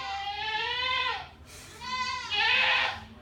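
An upset La Mancha goat bleats twice in long, wavering, nasal cries, close and loud, with a short pause between calls.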